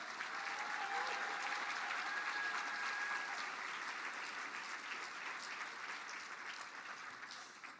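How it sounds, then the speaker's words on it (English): An audience claps for an honoree during a tribal State of the Band address, steady dense crowd applause throughout that eases slightly toward the close, with no talking over it. "Let's all give Raina a round of applause,"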